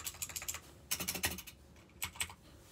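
Clicky typing on a Magic Refiner 60% wired mechanical keyboard with blue switches, close and crisp, in three quick bursts of keystrokes separated by short pauses, with no voices.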